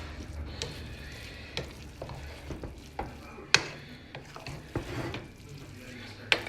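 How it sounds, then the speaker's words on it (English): A spoon stirs jollof rice in a pot over medium heat, giving soft irregular scrapes and knocks against the pot over a faint, steady sizzle. "now I'm going to give it my 20-minute stir"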